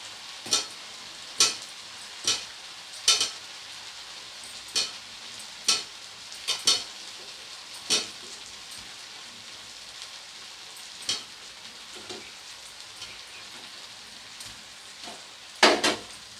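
Fried potatoes stirred into egg biryani in a pot, a soft continuous sizzle punctuated by a dozen or so sharp spoon scrapes and clanks at irregular intervals, close and fairly quiet.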